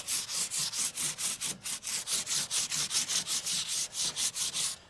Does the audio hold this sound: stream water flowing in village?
no